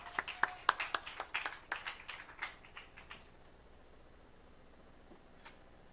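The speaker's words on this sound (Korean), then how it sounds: "이 시간 함께 힘찬 박수로 맞이해 주셨으면 좋겠습니다" A small audience at a Korean church youth lecture gives a short round of sparse, distinct claps that fade out after about three seconds, leaving quiet room tone and one last isolated clap.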